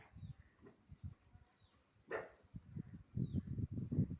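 Brownie, a dog, makes faint whimpering and low grumbling noises as it comes closer. A brief louder burst sounds midway, and rougher, stronger vocal bursts build toward the end.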